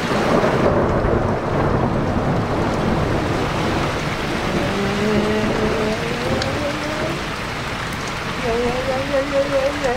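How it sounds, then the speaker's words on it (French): Thunder rumbling during a heavy rainstorm on a hot day, with lightning about and rain pouring steadily, a low roll of thunder under the downpour, while a voice talks faintly over parts of it. "Le tonnerre, j'aime pas."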